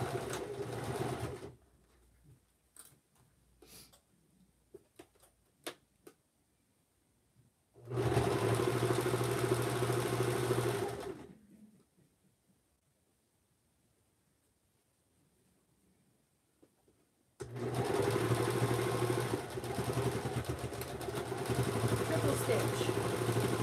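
A sewing machine runs a straight stitch in two steady, loud bursts of a few seconds each, separated by quiet stretches with light clicks and handling sounds.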